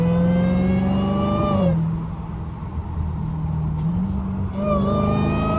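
A Dodge Hellcat with its hood removed, heard from the driver's seat, roars loudly and close. The engine revs high, drops to a rumbling idle, then climbs again.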